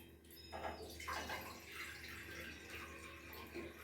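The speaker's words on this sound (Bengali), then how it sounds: "এর মধ্যে আমি জল নিয়ে নিলাম" Water runs into a pot in a home kitchen, a soft steady splashing trickle with a few brief drips, faint and close, with no talking.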